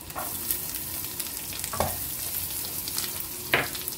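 Ampalaya with dilis and garlic frying in a pan, a steady low sizzle broken by three short scraping stirs of a utensil against the pan, close and alone without talk.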